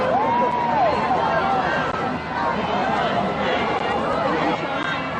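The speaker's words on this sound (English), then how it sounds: "Let's just have a listen to the atmosphere of the crowd for a moment." A large outdoor crowd at a royal walkabout in Adelaide for the Duke and Duchess fills the air with a continuous hubbub of chatter, calls and rhythmic chanting, voices overlapping near and far.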